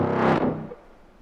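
Short, upfront reverb from a Valhalla Vintage Verb plugin on a pitched growl synth in a mix, a loud distorted tone that cuts off with a brief tail fading quickly into quiet.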